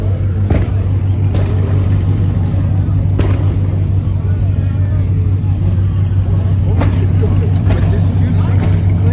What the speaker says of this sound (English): People doing burnouts back here.